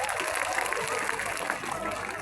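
Applause from an audience at an outdoor Islamic religious gathering in a field in Madiun, a dense continuous wash of clapping with some crowd noise, fairly loud and steady throughout.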